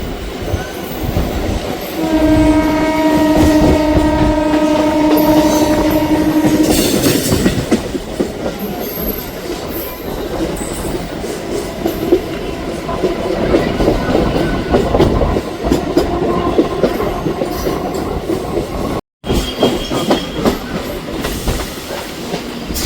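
A new pink local train on the Howrah–Amta line pulls in with a loud, sustained horn blast, then a steady rumble and clatter of wheels on track, close by with no talk.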